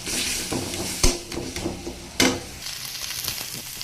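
Whole red amaranth greens fry in a pan while being stirred, a steady sizzle broken by a few sharp scraping knocks of the spatula against the pan, close and continuous.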